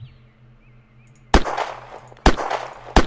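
Three sharp, loud gunshots in an arena shooter video game, spaced unevenly over a quiet low background hum, each with a short ringing decay.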